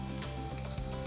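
Cumin seeds and bay leaf hit hot oil in a Bhojpuri home-style cooking show, producing a steady, close, crackling sizzle with no talking.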